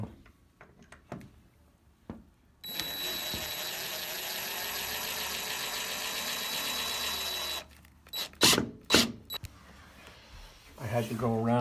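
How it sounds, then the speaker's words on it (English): A power drill driving a screw into a front door frame during a sticking-door repair, a steady whirring run of about five seconds, close and loud, framed by clicks and handling noises and followed by talking. "I'm going to have you drill."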